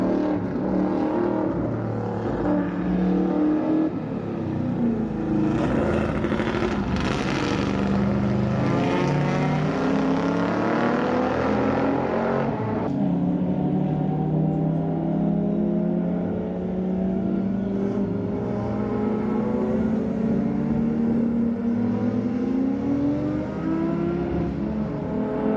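Historic race cars at a 24-hour race drone past in a sustained, layered engine roar, pitches sliding up and down as cars approach and recede at moderate distance, with no talk.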